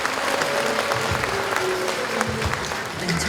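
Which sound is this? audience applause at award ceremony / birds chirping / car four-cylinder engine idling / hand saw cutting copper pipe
audience applause at award ceremony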